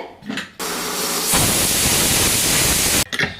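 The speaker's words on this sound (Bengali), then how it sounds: "তিনটে কি চারটে সিটি হয়ে গেছে" A pressure cooker of dal and greens lets off a loud, sustained hiss of escaping steam for about two and a half seconds, cutting in abruptly and stopping just as sharply.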